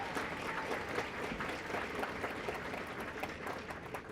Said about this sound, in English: So can we give another round of applause?